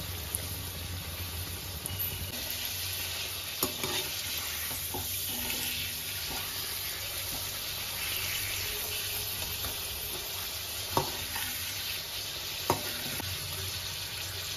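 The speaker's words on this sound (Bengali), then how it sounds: "হালকা গোল্ডেন করে ভাজবো" Potato kurkure snacks frying in hot oil until light golden, a steady low sizzle running throughout with a few sharp clinks of a utensil turning them, no voices.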